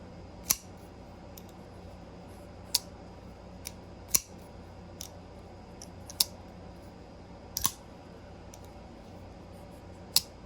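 A Kizer October folding knife is worked open and shut, giving about ten sharp, close metallic clicks and snaps at irregular intervals over a quiet background, without speech.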